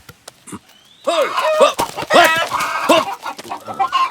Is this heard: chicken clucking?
yes